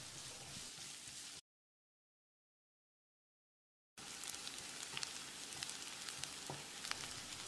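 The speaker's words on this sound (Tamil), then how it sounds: "வெங்காயத்தை பொன்னிறமாக வதக்கிடலாம்" Steady sizzling of chopped onions frying in hot oil until golden, with a gap of silence partway through before the crackling resumes, busy and close.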